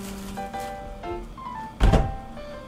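A soft, heavy thud of a mass of wild boar meat dropped into a metal tray set over ice, preceded by faint background tones and quiet room noise.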